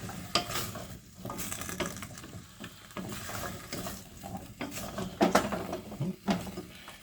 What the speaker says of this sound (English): Give it another mix.